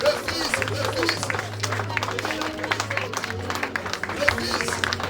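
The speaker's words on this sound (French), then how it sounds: "Tape tes pieds par terre et acclame." Church congregation stamping feet on the floor and cheering during prayer, a dense crowd roar with rumbling footfalls and scattered shouts, steady throughout.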